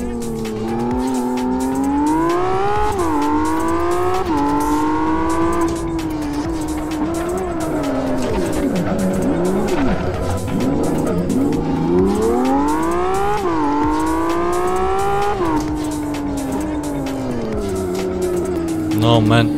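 A Lamborghini supercar in the Live for Speed racing game screams through rising and falling engine revs, with loud sustained tire squeal and skidding through the corners, continuous and close throughout.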